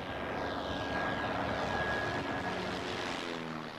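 A small propeller airplane flies by, its engine droning steadily and loudly in a constant rumble with a thin whine over it, and no voices.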